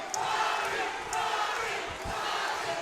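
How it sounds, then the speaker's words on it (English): A crowd cheers and shouts at a Shamrock FC MMA title fight, a broad, steady roar of many voices in a packed arena, rising and falling with a few sharp thumps. "the crowd going back and forth for their fighter"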